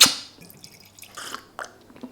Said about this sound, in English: Now we're gonna put the rest of the water.